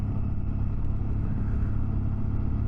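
A loaded touring motorcycle travels along a road on a long European trip, with a loud, constant engine rumble and rushing wind noise that stay steady, close and unbroken throughout.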